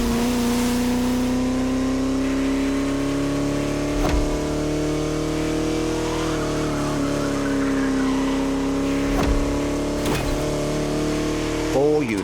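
A vintage Bugatti, one of four made, drives through French countryside roads in The Crew Motorfest, its engine holding a steady loud drone throughout with slight swells, while a voice talks over it.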